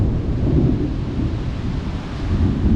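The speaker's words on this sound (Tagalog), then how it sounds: "grabe lakas ng ulan ah" Heavy rain pours down in a dense, constant roar with deep rumbling thunder mixed in, heard close and loud from a sheltered spot near a house.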